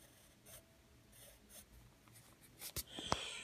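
A pencil draws lines on paper, giving soft scratchy strokes in short bursts, quiet and close, with a few sharper scrapes near the end.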